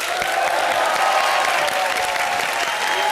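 A studio audience on a Hindi comedy show bursts into loud, steady applause welcoming guests, a dense continuous wash of clapping with faint crowd noise throughout.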